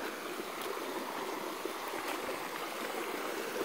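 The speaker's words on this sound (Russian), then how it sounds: "Это спринг, ручей," A spring-fed creek in Colorado Bend State Park flows steadily, with a continuous close rushing and babbling of water throughout and no voices.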